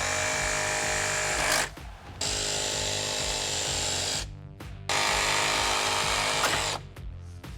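A power tool cuts into metal on a Jeep TJ in a shed, running in three loud, steady bursts separated by brief pauses as it winds down and restarts, close up.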